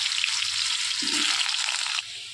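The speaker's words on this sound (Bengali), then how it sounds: "সেই আলুগুলো আমি ভেজে নেব।" Diced potatoes fry in hot oil with bay leaves and nigella seeds in a wok, a bright, steady sizzle with a brief stirring rustle midway that drops in level toward the end; no speech.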